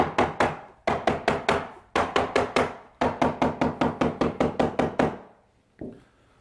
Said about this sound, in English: I'm going to secure the feather strip to make sure it holds the cloth in place for me